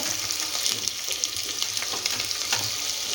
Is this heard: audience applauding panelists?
no